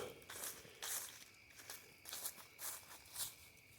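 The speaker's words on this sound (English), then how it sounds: "Thought I heard footsteps behind me." Footsteps in the dark outdoors during an impromptu investigation, a series of faint crunching steps at an uneven walking pace, somewhat distant and quiet against a low background hum.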